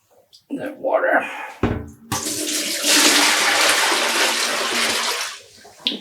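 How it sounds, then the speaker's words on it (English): Clear rinse water from a dye bowl poured out in one steady, loud rushing stream lasting several seconds, preceded by a brief clatter and splash as the bowl is handled. "You can just pour this out because it's just pure water now."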